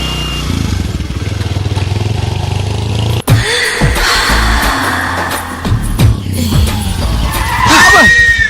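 A car brakes suddenly and skids, with a sharp jolt of braking followed by engine noise and a rising tyre squeal near the end, under voices in a comedy scene.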